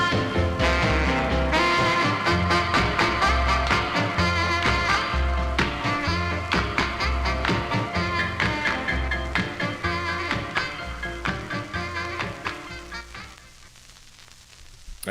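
1950s doo-wop record playing from a 45 rpm vinyl single, loud and rhythmic with punchy beats and horns, then fading out near the end.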